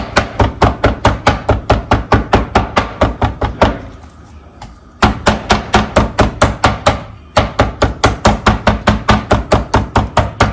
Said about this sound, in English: I'm going to just flatten them a little bit.